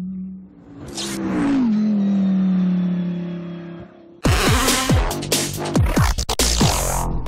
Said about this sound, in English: This just one of the corners taken by our 10 Audi R8 LMS cars